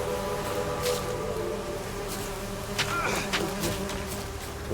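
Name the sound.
bees buzzing in a video game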